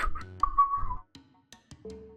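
Short whistled notes with a steady tone, mixed with faint Fate/Grand Order game sounds and brief tonal blips, moderately quiet and with no speech.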